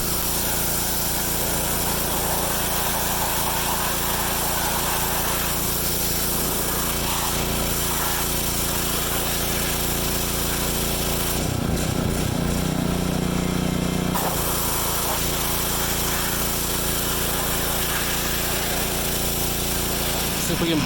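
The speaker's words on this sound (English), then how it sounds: "see if we can blast some rust off" A power tool runs continuously at close range, blasting rust off a Kubota G4200 tractor during restoration. The harsh, dense noise stays loud throughout, with a brief change in tone partway through.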